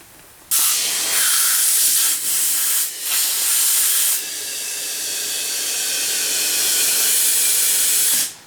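Air rushes into an inner tube being fitted to a tubeless tire, a loud, steady close hiss that starts abruptly, pauses briefly a few times, then runs continuously before cutting off.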